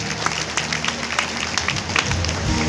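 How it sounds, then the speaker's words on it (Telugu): A crowd claps loudly and continuously at a gathering, dense, even applause filling the space for a few seconds, with faint voices underneath. "గట్టిగా చప్పట్లు కొట్టాలండి"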